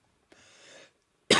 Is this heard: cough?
yes